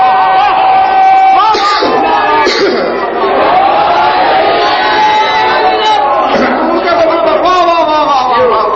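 A large sermon audience bellows religious slogans in unison, a loud, continuous crowd roar of chanting voices rising and falling in waves.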